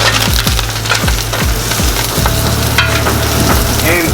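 Brussels sprouts, salted and peppered, sizzle steadily as they char in a hot pan, with a run of quick scraping stirs and utensil taps at the start, close and loud throughout.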